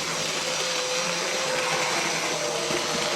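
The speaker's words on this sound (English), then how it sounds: "why is it still making this sort of grinding noise?" A steady mechanical whir with a rough grinding edge, continuous and fairly loud throughout, from the small electric motor of an OO gauge Hornby Dublo 3-rail 8F model locomotive running under strain.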